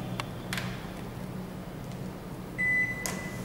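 A built-in microwave oven, model GL 673, gives one steady electronic beep near the end as its child lock switches off, preceded by faint clicks over a low background hum.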